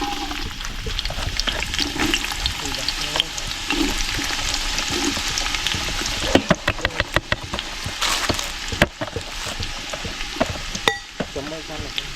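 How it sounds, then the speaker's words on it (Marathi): Chopped onion goes into hot oil for an Agri Koli style chicken, loud continuous sizzling and bubbling up close, with a burst of sharp scraping and clanks from stirring partway through. "आता तेल गरम झालंय आपण कांदा कापून ठेवलेला तो टाकूयात"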